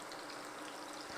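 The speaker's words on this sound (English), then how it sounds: "So we're going to let those fry." Plantains frying in oil make a quiet, even sizzle that holds steady and close for a moment with no voices.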